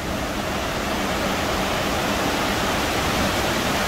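A huge tipping bucket at an indoor water park dumps its load, a steady roaring wash of falling water that fills the whole span loudly and evenly, like a close waterfall.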